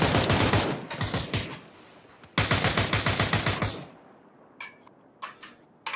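Automatic gunfire in a PUBG-style shooter video game, with two long, loud rapid bursts in the first half. Scattered fainter clicks and distant shots follow, and no one speaks.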